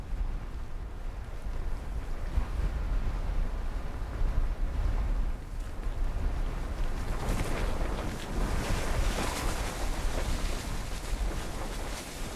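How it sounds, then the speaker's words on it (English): Strong wind on Denali mountain in bad weather, gusts exceeding 20 meters per second, roaring steadily and loudly throughout with buffeting surges and no voices. "Wind speeds exceeding 20 meters per second prevent the team from climbing."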